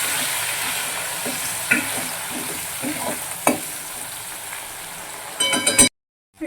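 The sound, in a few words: frying ginger garlic chili paste in oil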